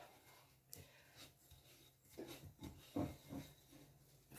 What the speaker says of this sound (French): Il faut bien mélanger le beurre avec le sucre